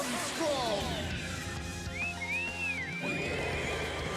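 A horse whinnies with a high, wavering neigh over a dense soundscape of music and effects in the video game The Legend of Heroes: Trails of Cold Steel II.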